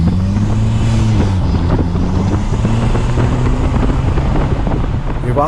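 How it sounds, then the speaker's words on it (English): A turbocharged Rewaco trike engine roars under full throttle on an Alpine ride, a loud continuous rumble with rising and falling engine tones, heavily buffeted by wind noise. "As soon as you thumb the starter, the Rewaco's rumble leaves you wanting to ring the throttle just to hear it full tilt."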